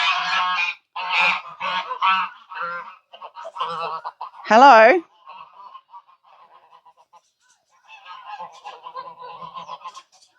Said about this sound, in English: Interrupting geese.